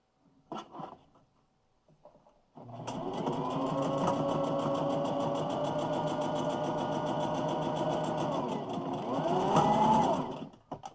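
A sewing machine sewing a quilt runs steadily at close range for several seconds with a rapid mechanical whir, preceded by a few small handling clicks and ending abruptly.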